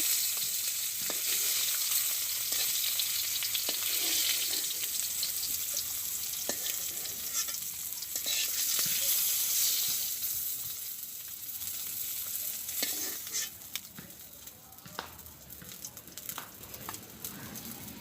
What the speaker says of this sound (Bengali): তো আমার মাছ ভাজা হয়ে গেছে, মাছটা নামাই নেব